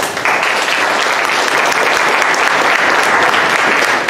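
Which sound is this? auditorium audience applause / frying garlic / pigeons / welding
auditorium audience applause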